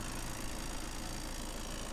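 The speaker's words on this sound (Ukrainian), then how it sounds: "щоб ви почули, наскільки робить тихо двигун" A Volkswagen Transporter van engine, 2020 model, idles quietly with a low, steady hum and faint regular pulsing, no voices over it.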